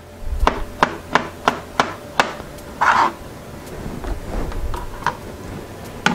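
A knife coarsely slices vegetables on a cutting board in a home kitchen, with about seven sharp, evenly spaced chops, a brief scraping swish, then softer, sparser cuts.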